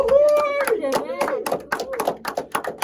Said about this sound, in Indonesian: Tepuk tangan dulu loh